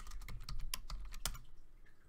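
Keys clatter on a computer keyboard as commands are typed in a Python session, a quiet, close run of irregular clicks with a few sharper strokes.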